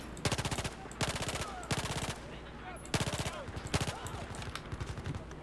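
Battlefield 4 combat with repeated bursts of full-auto gunfire, several rapid strings of shots separated by short pauses, loud and close over a busy battlefield background.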